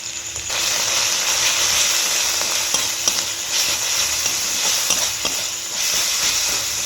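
Onion masala with cumin and coriander powder fries in a pan with a loud, steady sizzle, broken by occasional scraping clicks of stirring.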